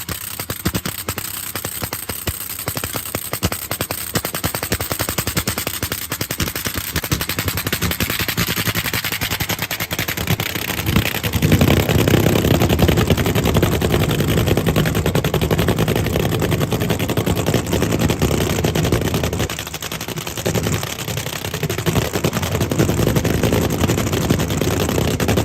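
A Nitro Funny Car dragster runs down an NHRA strip at spring training, a loud crackling, machine-gun-like roar sustained for the full stretch, swelling heavier midway before tapering off as it drives away.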